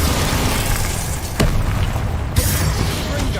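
A Bombarda spell goes off in Hogwarts Legacy, a loud blast with a sharp crack and rumbling burst amid dense combat noise, followed by a second hit a moment later.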